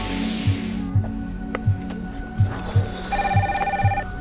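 A telephone rings steadily with repeated electronic trills, overlaid by a faint low pulsing pattern and a higher tone near the end, loud and close with no talk.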